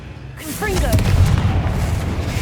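A Confringo blasting spell is cast in a Harry Potter video game, a spoken incantation followed at once by a loud, close fiery boom with a rumbling roar that fills the rest of the moment.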